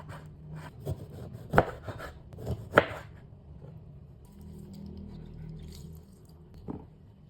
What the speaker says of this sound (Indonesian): Aku juga mau iris 3 buah jeruk, aku mau ambil airnya saja